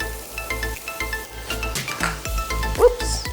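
Onion goes into a hot stir-fry pan with garlic and chili for a shirataki noodle dish, crackling and sizzling up close amid clinks and scrapes of the pan, with a brief voice near the end.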